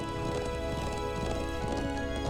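Quick clopping hooves of a horse running in the game Trails of Cold Steel, steady and close beneath a sustained music bed.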